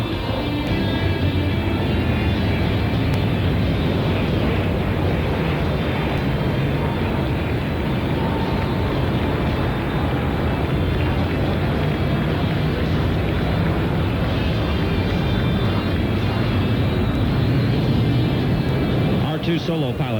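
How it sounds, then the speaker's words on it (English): Blue Angels F/A-18 jets flying the four-plane Diamond Roll over San Francisco during Fleet Week in 1989 give a continuous, loud, distant roar under a steady broadband wash, with no distinct passes standing out. "All four aircraft rolling as one in this graceful 360-degree rolling maneuver."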